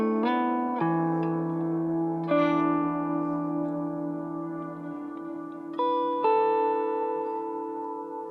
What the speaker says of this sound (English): just running a bit of reverse delay before the reverb